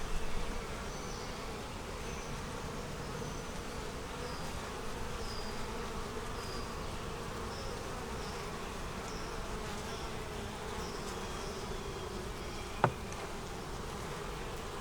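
Honey bees buzz steadily around an opened hive during a colony split with an old blue-marked queen, a dense continuous hum with individual bees passing close, plus one sharp tap near the end.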